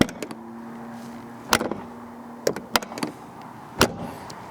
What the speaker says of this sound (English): what I love about the old school 911s is how the door sounds when you open